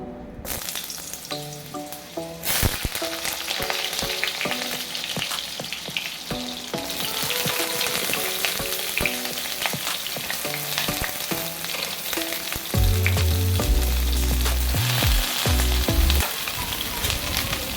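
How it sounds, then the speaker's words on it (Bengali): Pointed gourd (potol), salted and coated with turmeric, frying in a smoking-hot wok in a home kitchen, with a steady close sizzle, occasional louder bursts and light stirring scrapes, no talk. "তো কড়াইটা এবারে দেখছি গরম হয়ে ধোঁয়া বেরোচ্ছে, তো পটলটা দিয়ে দিচ্ছি ভাজার জন্য"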